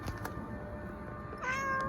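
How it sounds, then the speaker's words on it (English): A cat gives a short, clear meow near the end after a quiet stretch, close and moderately loud. "What's your name, kitty?"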